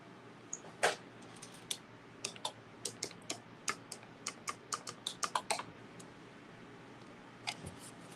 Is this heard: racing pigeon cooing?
no